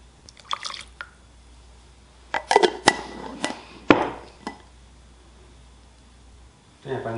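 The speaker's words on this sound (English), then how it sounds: "pour this green in." Green dye liquid is poured onto yarn in water, giving wet drips and splashes in short clustered bursts. The sound is close and moderately loud, with quieter pauses between the pours.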